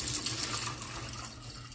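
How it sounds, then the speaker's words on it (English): Water-glassing solution pours steadily over fresh chicken eggs in a container, a continuous close liquid splash and trickle with no talking. "we're just going to pour it, like I say, over the top of these eggs"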